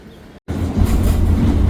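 Metro train at Kabatas station in Istanbul: loud, steady rolling rumble and rail noise building after a brief cut, heard close up with no talk.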